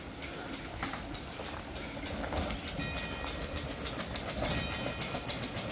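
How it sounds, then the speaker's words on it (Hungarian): A small garden railway train rumbles and clicks along its track, emerging from a tunnel and growing slightly louder, under the steady hiss of heavy rain. "Most onnan fog jönni majd a alagút felől a vonat."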